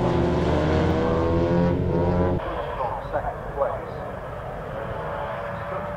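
Rallycross race cars, including a rear-wheel-drive car and a Mini, racing on mud at a Croft clubmans championship round: a loud engine drone that drops away to distant revving under continuous commentary.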